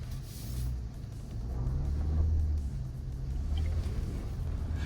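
A Nissan Armada PRO-4X SUV cruising on a highway gives a steady low road rumble and drone from inside the cabin, constant and moderately loud throughout.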